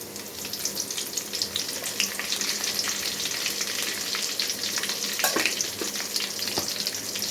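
Fennel seeds and curry leaves frying in hot oil, a dense, steady crackling sizzle heard up close without pause, with occasional sharper pops.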